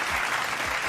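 Brief burst of loud, continuous applause from a crowd, thick and even, with no pauses or individual claps standing out.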